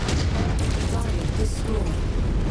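In the mech combat game MechWarrior 5, an ammunition explosion bursts with heavy booms and crackling blasts amid ongoing battle noise, loud and close, while a player talks over the action.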